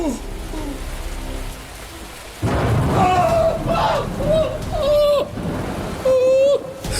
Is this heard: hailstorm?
yes